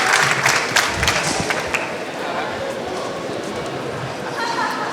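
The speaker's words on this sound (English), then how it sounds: "Please give them a huge applause." An audience applauds at a pitch and panel session, with a crowd clapping loudly at first and then fading into a steady murmur of background noise.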